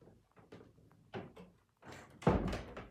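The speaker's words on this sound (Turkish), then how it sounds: "Durun bir saniye kapıyı kapatacağım." A door is pushed shut indoors with a few soft knocks and shuffles, then ends in a louder, fuller thud, fairly close and with no speech over it.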